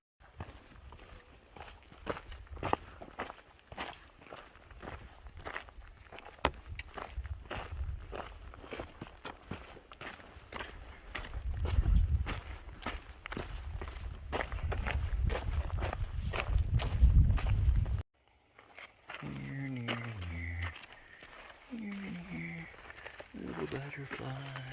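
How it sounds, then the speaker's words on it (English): Hiker's footsteps crunching along a woodland trail, a steady irregular series of close steps that grows heavier, stops abruptly, then gives way to a person talking. "Just walking through the woods, looking at all the flowers."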